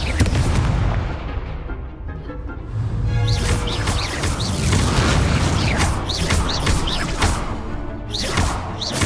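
Spell blasts and impacts from a Hogwarts Legacy wizard duel on PS5 boom and crackle in dense bursts over a rumbling game soundtrack, loud and continuous throughout.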